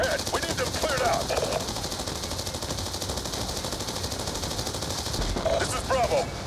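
Continuous automatic gunfire and explosions rattle through a convoy battle against enemy armor in Black Ops 2. Dense, loud bursts play throughout under brief radio chatter.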